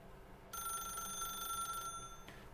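A telephone rings in The Stanley Parable, a single bright electronic bell trill lasting under two seconds against faint room hum, fairly quiet and alone.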